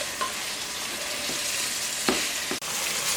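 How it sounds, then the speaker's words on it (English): A pound of ground beef frying with onions on medium heat, a steady sizzle with a few scraping stir strokes and one sharp clack of a utensil on the pan. "a pound of ground beef. We're going to add that here to the onions. And again, that's on medium heat."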